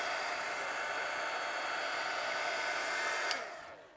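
A hair dryer blows steadily on a wet paint shirt, a constant close airy whoosh for several seconds before it clicks off and the noise drops away.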